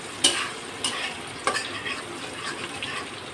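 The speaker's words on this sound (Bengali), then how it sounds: "পেঁয়াজটা ভেজে নিই।" Onions frying in a pan for hilsa fish dopiaza, a soft steady sizzle broken by several sharp clinks and scrapes of a utensil stirring against the pan, with no talk.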